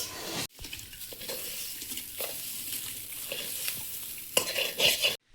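Lentils and broken wheat go into hot water in a pot and are stirred, with spoon scrapes and clinks against the pot over a bubbling hiss.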